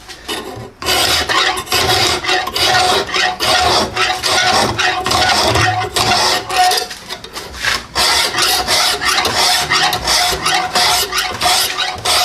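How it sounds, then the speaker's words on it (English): A bevel worked onto a mocotaugan crooked-knife blade with simple hand tools makes rhythmic, close, harsh rasping strokes in a steady back-and-forth pattern, with brief pauses between runs. "So let's go set it up and get that bevel grinded up."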